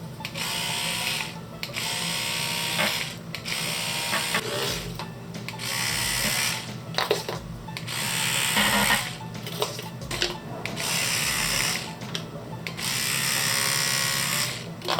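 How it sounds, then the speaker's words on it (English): Toothbrush worked over a chocolate transfer sheet to make a diamond pattern, a buzzing mechanical whir with repeated starts and stops and short gaps, loud and close throughout. "For the diamonds I will just use my toothbrush"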